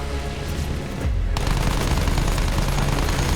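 Dense gunfire in the Battlefield 1 game, a continuous loud clatter of shots that breaks off for a moment and then resumes even harder, with no speech.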